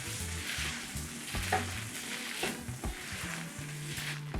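Glass noodles tossed in a hot wok with tomato and garlic chives for Thai pad woon sen: steady close sizzling under repeated scraping spatula strokes and stirring clatter, continuous with no talk.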